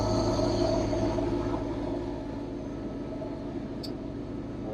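A Ford Coyote V8 swapped into a classic Ford Highboy idles with a steady, deep, throbbing burble, close and continuous, with no voices.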